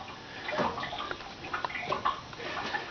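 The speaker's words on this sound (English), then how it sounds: "We're going to turn the water back on." Water rushes and splashes as it flows into a newly installed 40-gallon natural gas water heater tank, a steady close hiss with small irregular surges and clicks, no talk.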